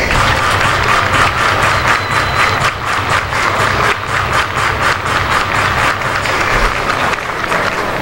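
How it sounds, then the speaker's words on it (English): Crowd at a York Revolution vs Somerset Patriots minor-league baseball game claps in unison, a steady rhythmic beat of many hands filling the stadium for the full stretch without letup, with organ music or a faint voice underneath. "Everybody clap your hands."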